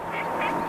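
Ducks quack in a short burst of a few nasal calls, fairly close and clear against light background noise.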